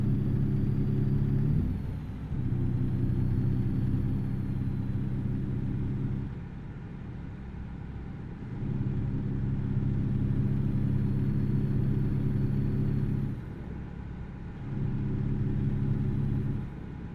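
Truck engine in a trucking simulator game, droning steadily at a low mid pitch in long sustained stretches broken by brief dips, like gear changes, fairly quiet with no talk over it.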